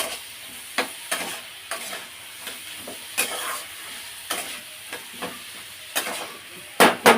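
Curry frying in a pan is stirred repeatedly, producing a soft sizzle beneath regular scraping strokes of a spoon and a couple of louder knocks near the end, close by with no talking.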